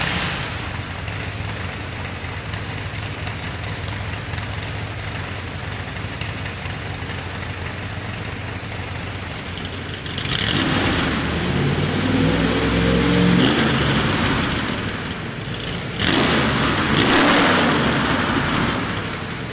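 A 1965 Shelby Cobra V8 with Edelbrock RPM aluminum intake and Jack Roush heads idles with a rough, loud rumble, then revs sharply twice, the pitch climbing and falling with each blip.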